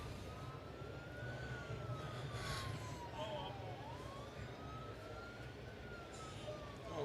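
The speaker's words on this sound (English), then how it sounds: "I hear sirens." A faint wailing siren rising and falling slowly in the distance, heard over a steady rumble of engine and road noise in a fire truck driving simulator on a one-way street.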